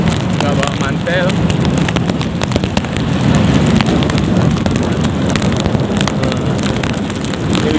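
Heavy rain pours during a ride home from an elementary school in Sinabang, a dense constant wash of noise with wind and traffic rumble underneath, heard close and loud throughout.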